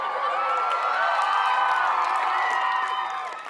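A crowd cheers for Trixie, a dense wash of shouts, whoops and high-pitched cheering voices sustained at full loudness for a few seconds before fading slightly at the end.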